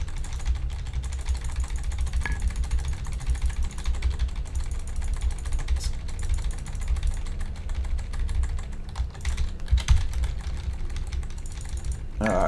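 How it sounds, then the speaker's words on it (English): Rapid, frantic computer keyboard smashing during a World of Warcraft Classic Stratholme dungeon fight, the clatter running steadily under loud, continuous game combat noise. "a bunch of keyboard smashing as I try and quickly kill these guys"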